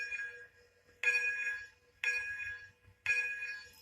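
A locomotive bell rings with three sharp, evenly spaced clangs about a second apart, each ringing on briefly before the next strike, against a quiet background with no talking.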